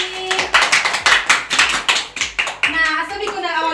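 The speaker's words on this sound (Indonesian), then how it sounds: "Tepuk tangan untuk Rizky" Schoolchildren in an Islamic history class clap their hands together for a classmate, a quick run of rhythmic, fairly close claps in unison, with voices joining toward the end.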